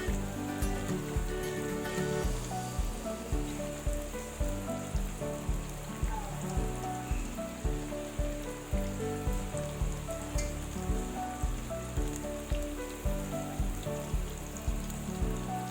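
Tofu siomai fries in hot oil with a loud, continuous, steady sizzle and crackle that holds evenly throughout, with no voices.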